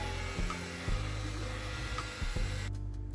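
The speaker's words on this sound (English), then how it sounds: "then just obviously fan dry it" A hair dryer or fan-type blower runs steadily on cool air, drying setting spray sprayed on a face during makeup prep, with a continuous broadband whoosh and small shifts in pitch, up close and without talk.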